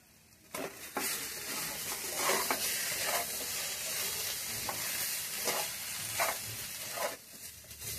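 Potatoes frying in oil in a pan with turmeric and salt, stirred with a spatula: a steady close sizzle broken by repeated scraping strokes against the pan, no talking.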